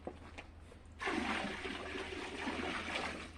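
Tap water running into a sink while spinach leaves are rinsed, starting abruptly and then pouring as a steady close splashing rush for a few seconds, with no speech.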